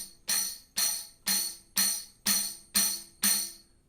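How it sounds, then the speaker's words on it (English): A tambourine held at about a 45-degree angle and struck seven times in a steady, even rhythm, each hit a bright jingle burst that rings out and fades before the next, close and clear with no talk. "So typically we want to hold that tambourine at about a 45-degree angle,"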